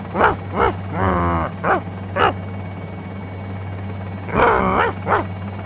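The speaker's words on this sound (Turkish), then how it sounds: "Helikopter çıkıyor." In a Minecraft game, a dog barks and whines repeatedly over a constant low rotor hum from a helicopter taking off, with a quiet stretch between bursts of barking.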